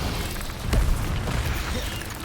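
A fire spell blasts in Hogwarts Legacy, a short booming burst of flame rising out of a dense, noisy game soundscape.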